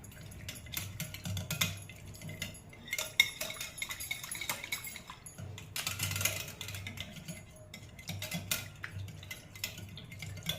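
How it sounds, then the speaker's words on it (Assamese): Yogurt curd is whisked in a bowl for cucumber raita, with a close, busy clatter and scrape of utensil against the bowl in uneven bursts and a faint wet churning underneath; no talking. "প্ৰথমে দহিখিনি ফেটি লওঁ"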